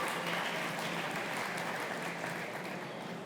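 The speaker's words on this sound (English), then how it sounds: "Please give them a round of applause." An audience at an agtech investment panel discussion gives a round of applause for the panelists, a fairly faint but dense, even clapping that carries on steadily without speech.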